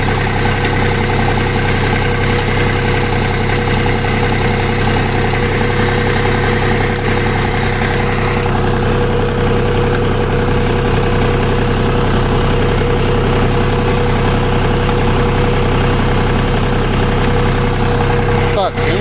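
A Xingtai TRKX 240 tractor's engine runs loud and close as it drives, a heavy continuous diesel drone with steady vibration and knocking that stays level throughout.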